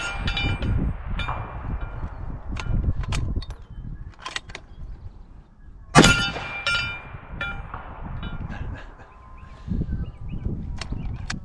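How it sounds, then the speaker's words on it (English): 25 Creedmoor rifle rounds strike a steel plate 425 yards away: sharp, separate metallic clangs spaced out over the clip, with one louder, closer crack near the middle over a quiet outdoor background. "Took me 1 shot to find the plate, and then 11 all on target at 425 yards"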